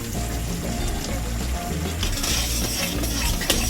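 Sugar and cracked cardamom pods are stirred in a pan to melt for homemade coconut naru, giving a continuous scraping, sizzling stir with a small clink near the end and no talk.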